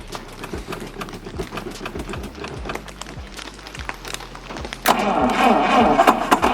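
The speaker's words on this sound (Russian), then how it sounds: "Двигатель быстрее начал крутиться." An old GAZ M20 Pobeda car, long abandoned in a forest, cranks with a rhythmic chugging starter turning the engine over repeatedly, then catches near the end into a louder, rougher running roar.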